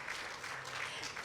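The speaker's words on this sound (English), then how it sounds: "Phuc, a round of applause." A conference audience in Singapore bursts into applause, a brief, dense wash of many clapping hands heard from within the hall, steady and fairly loud throughout.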